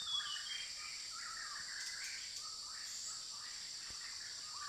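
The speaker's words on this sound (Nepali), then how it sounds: "कति दामी कराइराखेको छ चरा गाइस" Birds calling and chirping outdoors in a quiet rural setting, repeated short whistled phrases at moderate distance over a faint steady insect hum, no talk.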